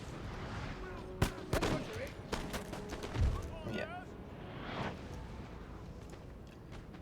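Cannon fire in the Total War: Napoleon video game booms through a battle scene, with several sharp reports and a deeper rumbling impact mid-way, under a brief spoken word and game sounds.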